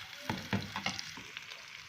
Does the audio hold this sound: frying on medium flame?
yes